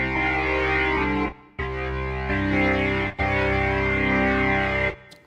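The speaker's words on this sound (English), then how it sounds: "That's a lot of distortion there." A Roland JV-1080 synthesizer patch with heavy distortion plays sustained, buzzing chords in three long held blocks separated by brief gaps, loud and close with no voices.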